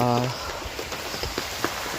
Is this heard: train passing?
no